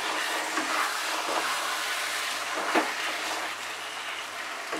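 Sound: stirring pui shak and fish head curry in a pan

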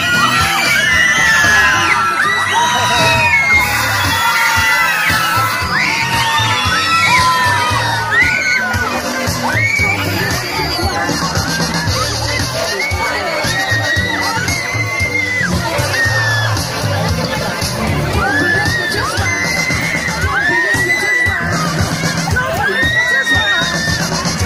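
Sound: crowd of children shouting and whooping

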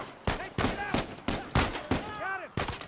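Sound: enemy gunfire from video game Uncharted 4

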